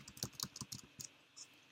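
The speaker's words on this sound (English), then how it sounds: "you can search for a specific app by typing it at the top here" Light, irregular typing on a computer keyboard while entering a search for an app, with a short burst of keystrokes followed by a couple of isolated taps, close and fairly quiet.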